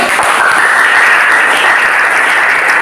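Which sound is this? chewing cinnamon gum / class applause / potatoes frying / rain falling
class applause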